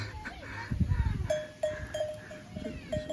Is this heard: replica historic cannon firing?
no